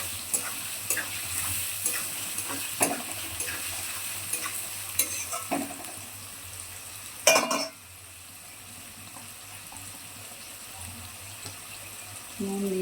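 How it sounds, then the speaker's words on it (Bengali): Onions fry in oil until crisp and browned, a soft continuous sizzle with scattered clicks and scrapes of stirring and one sharp clatter midway, after which the sizzle quietens. "একদম কড়া করে ভাজতে হবে পেঁয়াজটা।"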